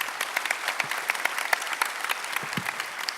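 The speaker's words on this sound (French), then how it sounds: "Applaudissements pour Monsieur Bourgois" An audience at a general assembly meeting applauds Monsieur Bourgois with dense, steady clapping from many hands, fairly even in loudness throughout with a few sharper individual claps standing out.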